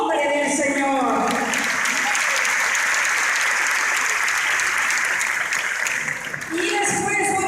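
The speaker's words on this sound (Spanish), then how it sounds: "vamos a dar un fuerte aplauso en el nombre del Señor" At a church anniversary service, the congregation breaks into strong, sustained applause. Voices and calls rise at the start and again near the end, and the clapping stays loud and steady through the middle.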